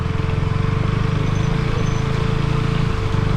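KTM Duke motorcycle engine running on a muddy off-road route, a loud steady low throbbing drone with a constant hum, close and alone.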